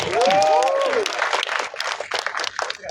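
Audience applause at a press conference for a film about fathers, a dense burst of clapping strongest at the start and thinning out, with a voice speaking over the opening second.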